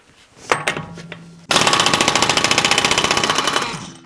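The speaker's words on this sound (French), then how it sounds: "il faut une clé à impact, clé à choc. La mienne est pneumatique." A pneumatic impact wrench hammering on a Tesla Model 3 wheel with a 32 mm socket: after a couple of clicks, a loud, fast, even rattle of blows runs for over two seconds close by.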